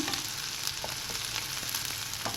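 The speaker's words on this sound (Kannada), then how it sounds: "ಬೆಳ್ಳುಳ್ಳಿನ ಹೀಗೆ ಸ್ವಲ್ಪ ಕಟ್ ಮಾಡಿಕೊಂಡ್ರೆ ಅದು ಸಿಡಿಯಲ್ಲ, ಇಲ್ಲಾಂದರೆ ಎಣ್ಣೆಲಿ ಒಂದೊಂದು ಸಲ ಸಿಡಿದ್ಬಿಡುತ್ತೆ" Cut garlic frying in hot oil, a steady dense sizzle with scattered small pops and crackles running throughout, close and unaccompanied by talk.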